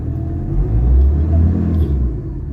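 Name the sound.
Ford Ranger 3.2 engine running with strong vibration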